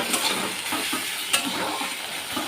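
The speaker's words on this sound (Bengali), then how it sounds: "এবারে নেড়ে চিনিটাও ভালো করে মিশিয়ে নেব" Sugar is stirred into cooked red amaranth greens in a pan: a continuous hissing sizzle with soft, rhythmic scraping strokes of a spatula, close by, with no speech.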